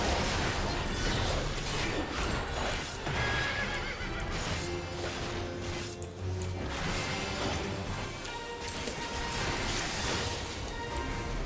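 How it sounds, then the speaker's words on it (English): Horse whinnies and clip-clopping hooves in the Final Fantasy XIV game, a neigh standing out over dense, continuous game music and effects throughout. "And what a pretty horsey!"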